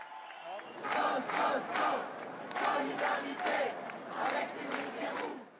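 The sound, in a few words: crowd cheering as Cédric Herrou arrives at the courthouse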